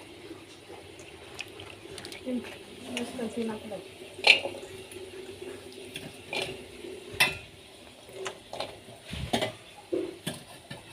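Tomatoes and green chillies fry in a pan, soft sizzling under intermittent stirring clatter and occasional utensil knocks, with a voice speaking over it.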